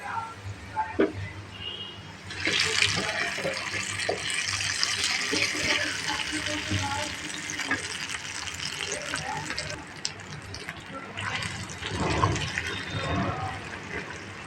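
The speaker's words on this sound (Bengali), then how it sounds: "এখন আমি ফোরনটা ঢেলে দেবো" Hot tempering (phoron) is poured into a pot of thin Bengali khichuri, making a loud, sustained sizzling pour up close that runs for several seconds, swells again near the end, and has no speech over it.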